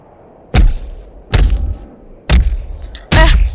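Four heavy thuds and impact hits from a fight in the Sakura School Simulator video game, spaced about a second apart, each landing loud and close with a sharp attack and a short decay, with faint background between them.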